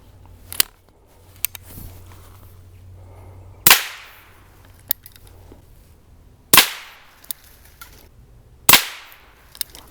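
Three supersonic .22 rounds fired through an aluminum suppressor, each a sharp, loud crack with a quick fading tail, spaced a few seconds apart, with small clicks in between.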